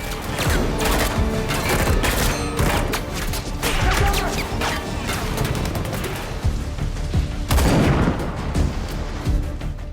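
Rapid bursts of gunfire crack and boom repeatedly in a film shootout between soldiers and special forces, dense and chaotic, with heavier blasts mixed in throughout.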